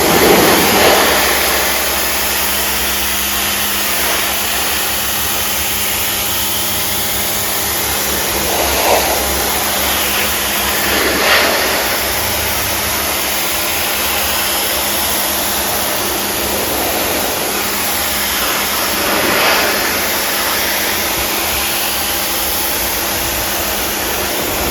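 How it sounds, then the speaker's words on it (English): A Wholesun WS 3000 electric pressure washer, 1600W and 3000 PSI, sprays with a loud, steady hissing roar of water and motor. The tone swells slightly now and then as the jet shifts, with no voices over it. "this is my new Wholesun 3000 PSI electric power washer with hose spool, attachments, brush, and soap dispenser"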